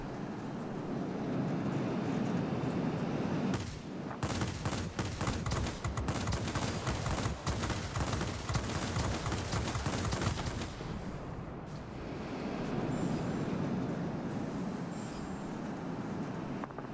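Rapid salvo of rocket fire from a Me 262 jet in World of Warplanes during an attack on a B-32 bomber, a dense crackling barrage of overlapping bursts lasting several seconds over steady engine drone.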